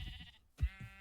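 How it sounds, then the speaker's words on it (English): A sheep in the video game Minecraft lets out a single short bleat, close and clear, preceded by a softer bleat-like call and faint game background sound. "I go to hit something like a sheep over here"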